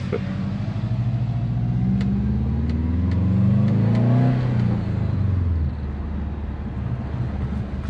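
A 2004 Subaru Forester XT with a GFB hybrid blow-off valve fitted, driving with the engine revving up and easing off, a steady mid-level engine drone with a swell in the middle and no talk.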